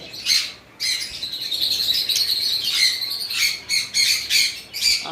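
Caged yellow and lime Fischer's lovebirds, kept in pairs, give loud, harsh, shrill squawks and chirps in rapid overlapping bursts close by, with no talking.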